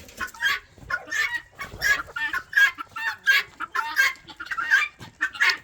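Chickens clucking close by in a steady series of short, bright calls, with no voices.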